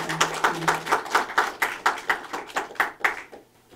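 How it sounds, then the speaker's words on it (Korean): Clapping in a church service: a congregation gives a big round of applause, heard as a close, rhythmic series of distinct hand claps at a steady beat that thins out and fades near the end. "다시 한번 큰 박수 부탁드립니다"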